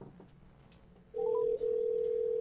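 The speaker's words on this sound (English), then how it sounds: "I think you can hear it ringing." A telephone call going through after dialing the DATV number, with the handset turned up: a short rising tone blip, then a steady loud ringback tone that holds for over a second with one brief dip.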